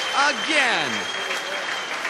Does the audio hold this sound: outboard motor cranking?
no